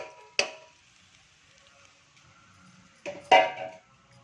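Sautéed ingredients for a Karnataka saaru are tipped into a cooker pot, making two sharp metallic clatters, one at the start and a louder pair near the end, with quiet handling noise between and no talking.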